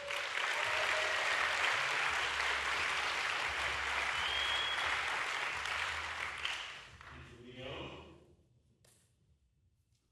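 A conference audience applauds to welcome a speaker, with loud, dense clapping filling the room that holds steady, then fades away to near silence.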